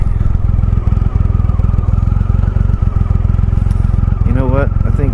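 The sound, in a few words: Triumph Rocket 3 Touring motorcycle engine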